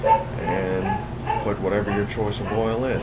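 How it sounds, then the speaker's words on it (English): Dogs yip and bark in the background of a home garage during a truck oil change, faint and intermittent beneath steady close-up talking. "I apologize for my dogs in the background."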